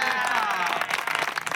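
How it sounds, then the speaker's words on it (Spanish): A voice trails off as a small group breaks into clapping for a woman named Mari, the claps growing choppier and more scattered toward the end. "Un aplauso para la Mari"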